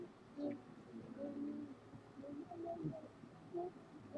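Soft repeated cooing from a pigeon-like bird in the Final Fantasy XIV dungeon Tam Tara Deepcroft, low and murmuring over a quiet game ambience, with several brief coos spread across the moment.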